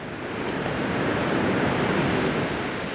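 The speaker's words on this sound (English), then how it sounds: "I never tire of looking at a river." Steady rushing flow of river water in a Puerto Rico rainforest, a broad, even wash of noise that stays continuous and fairly close for the whole stretch, with no voices over it.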